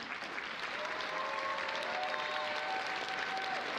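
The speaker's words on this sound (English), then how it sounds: "A warm round of applause for this well-deserved recognition." Steady applause from a commencement audience for graduates being recognised, a continuous dense patter of many hands that stays even and fairly loud throughout.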